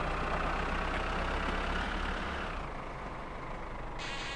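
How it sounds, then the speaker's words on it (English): A loud, steady rally car engine roar in the video game My Summer Car drones throughout with a rough rumble, easing slightly partway through as the pitch settles. "I think I can hear a rally car"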